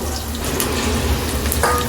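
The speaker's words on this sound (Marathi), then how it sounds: "एक अख्खा बारीक चिरलेला कांदा आणि कढीपत्त्याची दहा बारा पानं फोडणी म्हणून" Finely chopped onion and a dozen curry leaves fry as a tempering for a mutton dish, making a loud, continuous, close-up sizzle that holds steady throughout with no voices.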